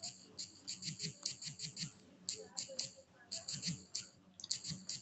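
Typing a command on a keyboard while setting up Docker in Termux on an Android phone, a rapid run of light clicking keystrokes in bursts with brief pauses, close and fairly quiet.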